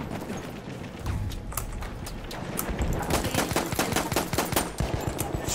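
Automatic weapon fire in the video game Battlefield 1, rapid bursts of machine-gun shots building into a dense, loud stream over a rumbling battlefield backdrop.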